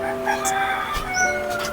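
A rooster clucks and calls in short bursts close by, with faint background noise around it.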